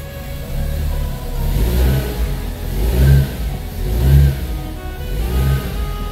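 Chevy Spark engine with a freshly rebuilt transmission, revving in first gear: a low, steady engine drone that swells and eases several times in a loose rhythm, close and fairly loud, with no voices.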